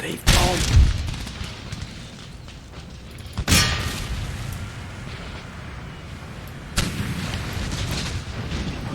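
Musket volleys in an Empire: Total War battle: three loud, sharp cracks of massed gunfire at roughly three-second intervals, each trailing into a rumbling battlefield din, with someone talking over it.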